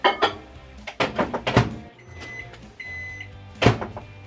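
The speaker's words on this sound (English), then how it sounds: "So now I'm putting in microwave." A microwave oven is loaded to cook a strawberry mug cake, with the door thunking shut, a few knocks and button beeps, then a low hum starting up, all close by.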